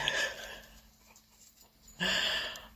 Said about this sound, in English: Oh, that dog is so cute.